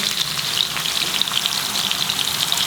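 A pan of chicken sizzles continuously with a dense, even hiss of frying and scattered crackles, close up and steady, with no talking.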